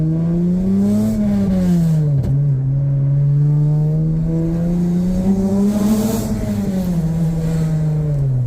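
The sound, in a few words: Acura TL SH-AWD with busted exhaust revving loudly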